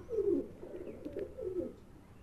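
A pigeon held for deworming gives soft, low coos in three short rolling phrases, close and fairly quiet.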